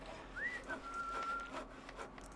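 An idle villager whistles in the god game Godus, a thin melodic line of a few sliding and held notes over quiet ambient game sound, soft and fairly distant.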